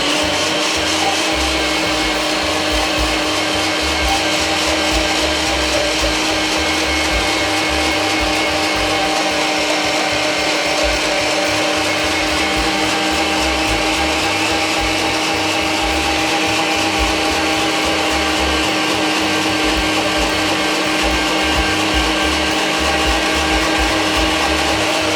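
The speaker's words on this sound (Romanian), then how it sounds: "Vom trece acum prin mașina de tocat, echipată cu sită cu găuri mari" An electric meat grinder fitted with a large-hole plate minces roasted peppers and mushrooms, a loud, continuous motor drone with a grinding rattle that runs steadily and uninterrupted throughout.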